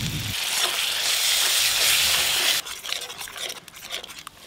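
Grated tomato dropped into hot oil with well-fried spices, hissing into a loud steady sizzle that drops abruptly partway through to quieter crackling and scattered pops.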